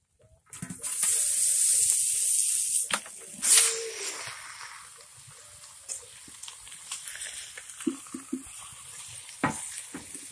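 Chopped pork pieces for torresmo pururuca fry in hot fat, a loud steady sizzle that starts abruptly and then eases, with stirring scrapes and clinks throughout.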